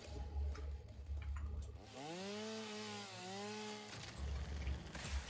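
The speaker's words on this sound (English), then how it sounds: "here's our chainsaw ready." A chainsaw runs in a sandbox building game, its engine idling low, then revving into a sustained whining tone that bends up and down for about two seconds before dropping back to a rough idle.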